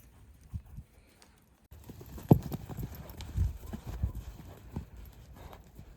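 A horse trots on firm ground, its hooves clip-clopping in a quick, regular rhythm that grows more distinct after a quiet start, close by with faint surrounding noise.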